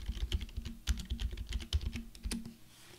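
Keys clatter on a computer keyboard in a quick, uneven run of close taps for about three seconds while someone types.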